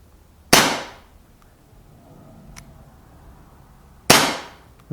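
A P08 replica BB pistol fires twice, each a sharp, loud crack with a short ringing tail, spaced a few seconds apart with quiet room tone between.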